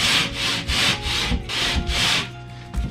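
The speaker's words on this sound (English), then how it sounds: "I'm gonna get my rasp here and take some" A hand rasp files the edge of a drywall sheet in five or six steady back-and-forth strokes, a close, dry rasping scrape with short pauses between passes and no voices.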